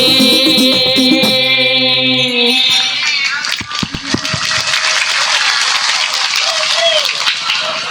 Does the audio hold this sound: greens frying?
no